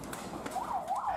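A wailing fire engine siren from a local government fire truck, called out to a house fire in Papua, rises and falls twice at moderate distance over background noise.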